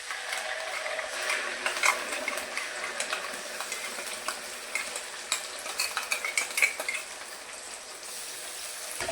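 Ground spice masala with curry leaves and coriander frying in oil over a low flame in a pan, a soft continuous sizzle with light rattling stirs that grow busier toward the end.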